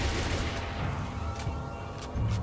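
Gunfire in a Minecraft SCP mod game, a quick volley of rapid shots forming a rattling fusillade over a steady background hum, moderately loud and brief.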